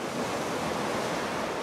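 Ocean waves churn in the middle of a dark, deep sea in an animated children's story, a steady, dense wash of surf mixed with wind and no voices.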